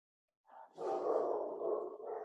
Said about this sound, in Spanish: ¿Escuchan los perros por ahí cómo están ladrando?